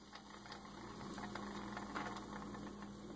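Steady mechanical whirring and faint grinding from a worn idler pulley bearing spinning on a Mitsubishi Outlander 2.4L 4G64 engine, with a low engine hum running continuously underneath.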